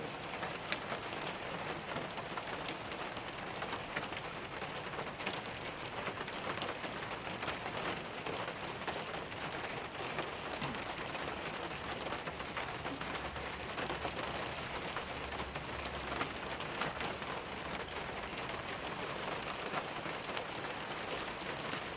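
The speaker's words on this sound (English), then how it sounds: "You can probably hear the rain." Steady rain falls across the whole stretch, a dense, even patter of drops on surfaces that stays constant from start to finish with no voices over it.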